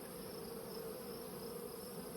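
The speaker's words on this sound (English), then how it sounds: "There's a lot of bees in these colonies." Bees hum in a dense, steady drone around beehive colonies during robbing season, close and continuous with no pauses.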